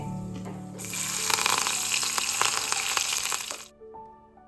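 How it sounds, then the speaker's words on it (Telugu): Spices for a dal tempering hit hot oil and burst into a loud, crackling sizzle that holds for about three seconds before quickly dying away, heard close with no talking. "ఇక ఇది నేను పప్పు తాలింపు కోసం అని చెప్పి వేసుకుంటున్నాను"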